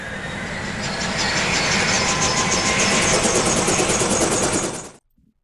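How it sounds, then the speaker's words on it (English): A helicopter engine in the CMANO naval warfare video game gives a steady, loud whine with rhythmic rotor pulsing for about five seconds before stopping sharply. "I'm going to scramble my other helicopter too."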